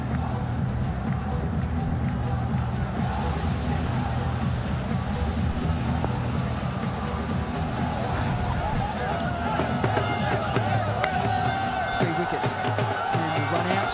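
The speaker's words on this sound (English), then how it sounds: "Crowd right behind each and every player in green." A large crowd at the SCG roars and cheers during a Pakistan versus New Zealand T20 World Cup semi-final, a dense, continuous wash of noise from a packed stadium that swells slightly toward the end.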